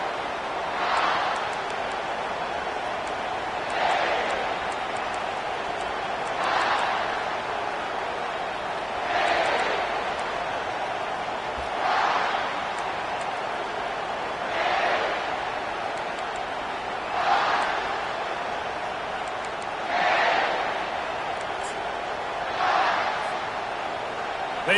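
Stadium crowd at a Gamecocks football game, a rhythmic chant swelling roughly every three seconds over a constant loud crowd roar.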